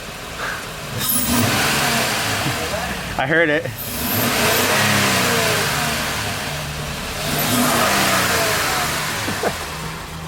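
A car engine fitted with an AEM V2 cold air intake revs up in bursts, loud and close, with people talking and reacting over the roar.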